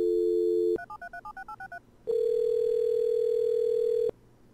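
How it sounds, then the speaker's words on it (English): In the video game OneShot, a steady dial tone is followed by a quick run of beeping keypad tones, then a long flat ringing tone that cuts off abruptly. "It's like the most basic ringtone ever."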